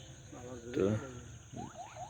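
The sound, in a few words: crickets chirping at sunset in a village paddy field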